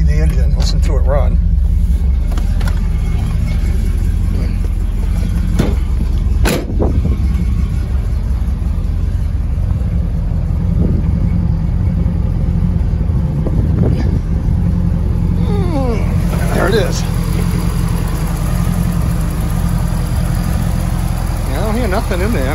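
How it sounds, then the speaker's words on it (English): A 1987 IROC with a 350 V8 idles steadily close by, a continuous low rumble running the whole time while someone talks intermittently over it. "So I'm gonna just get out, let you see the engine, listen to it run."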